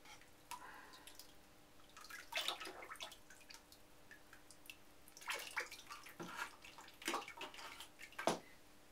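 Water is poured from a bucket, with irregular splashes and trickles coming in several bursts, fairly faint and close, over a quiet background.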